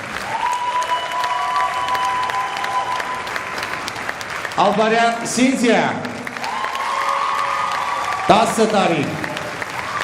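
Steady audience applause fills an award ceremony hall, with a presenter's voice announcing names over the clapping and brief bursts of louder speech partway through.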